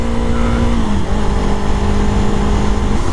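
A car speeds along a road with a loud, steady engine drone close by, its pitch dipping slightly as it slows and then holding steady, continuous and without speech.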